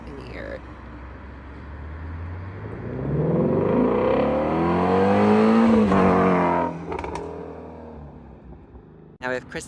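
A car speeds along a street in West Hollywood, its engine swelling loud and close as it revs and passes, then fading off, with voices in the background.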